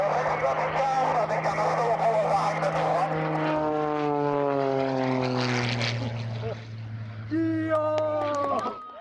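A propeller-driven aerobatic display airplane at the Pardubice airshow, its loud engine drone holding steady and then sliding down in pitch as it passes, with a second rising engine note near the end and a voice speaking over it.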